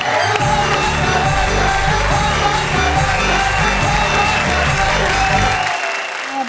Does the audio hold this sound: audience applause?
yes